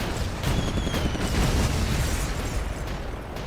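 Bombs exploding in the WWII flight game Air Conflicts: Secret Wars make a continuous loud, low rumbling roar with sharper bursts layered through it, close and heavy with no voices.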